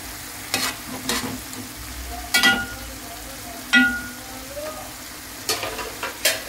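Stuffed brinjal curry (gutti vankaya) cooking in a pan, with a steady low sizzle broken by several sharp clinks and scrapes of stirring, close and moderately loud.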